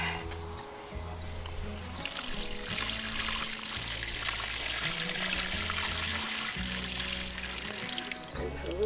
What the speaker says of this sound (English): I'm going to get them watered in really well.